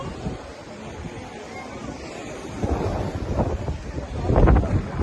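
Wind buffets the microphone over rolling sea waves at Kanyakumari, where three seas meet, the surf swelling louder toward the end, with faint voices in the distance.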